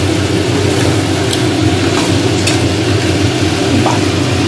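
A kitchen chimney exhaust hood runs overhead, giving a steady, loud broadband whoosh and low hum that stays constant throughout, with faint clinks of stirring on top.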